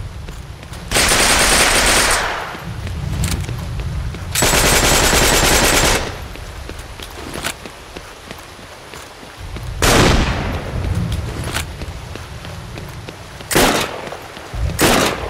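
Weapon gunfire in the video game Heroes and Generals, with long bursts of loud automatic fire broken by shorter bursts and single shots, dense and close, without speech.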